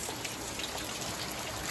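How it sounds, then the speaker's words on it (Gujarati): Rain falling in Bhavnagar during a windy spell, a soft, even hiss of drops that runs steadily without a break and stays faint and fairly distant. "તો વરસાદ ચાલુ થઈ ગયો છે"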